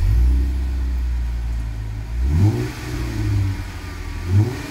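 Close by, a 2017 Jeep Wrangler JKU with a V6 and MagnaFlow cat-back exhaust idles low, then revs sharply three times in quick bursts, each rising and falling back, with no talking.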